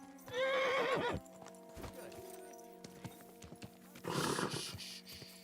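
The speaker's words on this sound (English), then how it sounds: "Easy, good horse." A horse in the medieval game Kingdom Come Deliverance 2 gives a loud whinny, followed by soft clip-clop hoof steps and a second burst of snorting and neighing, close by.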